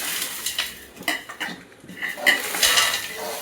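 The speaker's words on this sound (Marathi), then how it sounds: "आता ह्या पातेल्यामध्ये आपण पूर्ण जिन्नस जे मिक्स करून घेतले ते सर्व आता ह्यामध्ये टाकून घ्यायचे" Poha chivda ingredients tumble into a large metal pot, giving a string of clattering metallic knocks and scraping clinks, with faint sizzling beneath.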